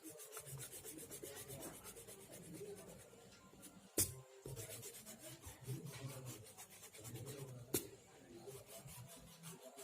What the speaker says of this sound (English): So now I'm going to rub the excess lines.